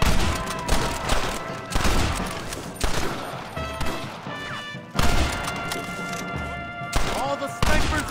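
Soldiers exchange heavy gunfire in Red Dead Redemption, with repeated loud rifle and gun bursts cracking in clusters across the scene, mixed with crashes and splintering wood, while voices shout over the battle.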